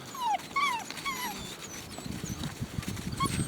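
Puppies yelping and whimpering outdoors on a very windy day, with several high, sliding cries early, then scattered yips over gusty rumbling and rustling.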